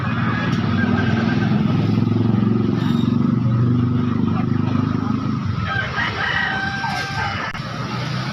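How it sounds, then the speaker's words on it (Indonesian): A busy, noisy outdoor chicken market in Makassar: a rooster crows over steady clucking and murmuring voices, with motorbike engines passing nearby. "Ini adalah suasana atau kondisi di pasar ayam Dayak Makassar."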